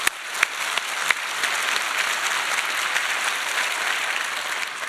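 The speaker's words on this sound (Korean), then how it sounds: "한번 박수 드립시다." A church congregation breaks into sustained applause, dense steady clapping from many hands after a few sharp opening claps, loud and filling the room with no talk over it.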